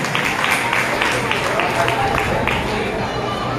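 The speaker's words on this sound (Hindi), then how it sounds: "जोरदार तालियां।" Loud, dense applause from a crowd at a business achievers' recognition event, sustained steadily for the full stretch with faint voices mixed in.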